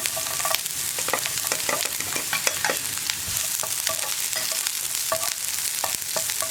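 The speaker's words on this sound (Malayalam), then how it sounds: "നമുക്ക് 2 വറ്റൽമുളക് ചേർത്ത് കൊടുക്കാം. അതുപോലെ തന്നെ അതൊന്ന് ചൂടായി വരുമ്പോൾ നമ്മുടെ സവോള കട്ട് ചെയ്തത് ചേർത്ത് കൊടുക്കാം." Sliced onion frying in hot oil with mustard seeds and two dried red chillies, a loud, dense sizzle with rapid scraping strokes from steady stirring, close by and with no talk.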